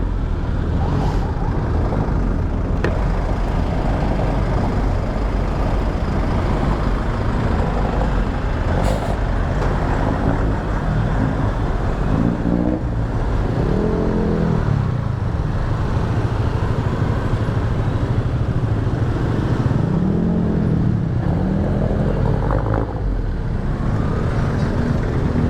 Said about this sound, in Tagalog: Under construction ang kalsada dito guys, kaya ganyan ka traffic.